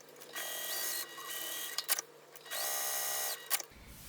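A sewing machine runs in two bursts of about a second each, stitching rows along the folded edge of a fabric satchel, with clicks and a pause between the whirring runs.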